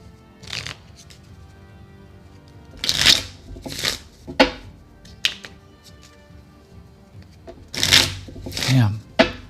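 Playing cards being shuffled during a tabletop card game, a few brisk riffling bursts spaced across the stretch, with voices talking over and between them.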